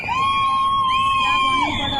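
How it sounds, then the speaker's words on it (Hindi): Loud, agitated crowd shouting and wailing after a cloudburst flood disaster in Uttarkashi, with one piercing sustained scream running throughout, dense over a constant background clamor. "ये चीखो पुकार भी आपको सुनाई दे रही है"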